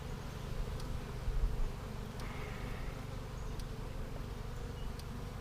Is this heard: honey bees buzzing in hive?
yes